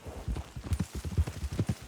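Horse hooves clip-clopping in Red Dead Redemption 2, a steady rhythmic run of close, distinct hoof strikes at a walking pace with no talk over them.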